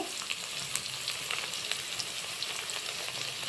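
Fresh curry leaves sizzle and crackle in hot oil in a pan, a close, continuous frying hiss with small pops scattered throughout, no voices.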